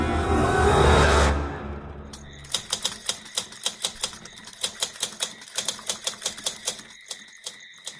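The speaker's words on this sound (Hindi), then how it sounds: "टाइपराइटर की बटन दबने की आवाज सुनाई दे रही थी।" Rapid, crisp typewriter keystrokes clack in an uneven rhythm after a brief whooshing swell, close and clear.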